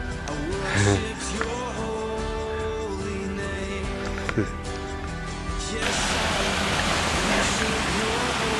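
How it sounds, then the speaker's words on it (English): Waterfall beside the Machame Route trail on Mount Kilimanjaro, a steady broadband rush that swells louder in the last few seconds, with voices and footsteps over it early on. "We're passing this really nice waterfall thing going on."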